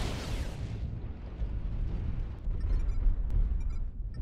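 Mech laser and Gauss rifle fire in a battle video game: heavy booming blasts and rumbling impacts overlap densely, followed by sharp electronic zaps and pings in a chaotic firefight.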